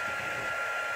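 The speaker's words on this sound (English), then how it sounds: "I've even turned on my heat tool." An embossing heat tool warms up before use on vellum, giving a steady, loud, even blowing whoosh like a hair dryer that holds unchanged throughout.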